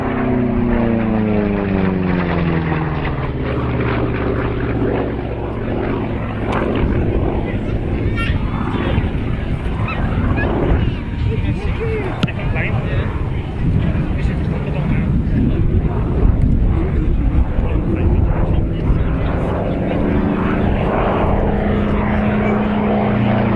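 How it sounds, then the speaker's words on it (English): The P-47D Thunderbolt propeller fighter "Nellie" flies past at the Cosford Airshow with a loud, rumbling radial engine drone that shifts in pitch as it passes. Its roar stays steady throughout, and an announcer talks over it. "running back in the P-47D Thunderbolt"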